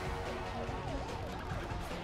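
An ambulance siren in the video game Spider-Man: Web of Shadows wails in a fast repeating up-and-down pattern, steady and fairly close over a rumbling engine.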